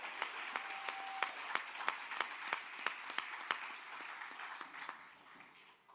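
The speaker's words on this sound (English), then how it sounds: "Y'all give him a big round of applause." Steady applause from a crowd at a Malcolm X 60th commemoration event, with sharp individual claps standing out over a dense wash of clapping that slowly fades toward the end.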